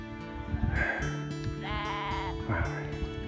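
A black-faced sheep bleats a few times nearby in the Northumberland hills, wavering calls over a steady low background hum and some breezy wind noise.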